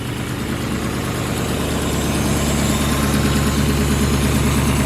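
A supercharged LSA 6.0 V8 fitted in a GMC Syclone idles steadily up close, its deep, even rumble running unbroken throughout with no voices.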